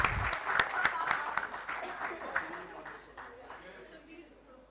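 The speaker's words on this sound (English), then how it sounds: "Can we give a huge cheer for Plutus Plus and Sanya" A crowd at a startup expo and conclave applauds and cheers for a few seconds, the clapping fading steadily while a voice talks over it.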